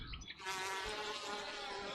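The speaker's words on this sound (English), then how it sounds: "Worker bees do almost all the chores in the hive." A steady, faint hum of worker bees buzzing around the hive, continuous and close with a slight shimmer, alone without voices.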